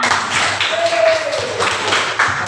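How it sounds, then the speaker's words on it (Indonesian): A classroom group gives a burst of hand clapping that stays steady and fairly loud for a couple of seconds, with faint voices underneath. "kita kasih tepuk tangan untuk kita semua"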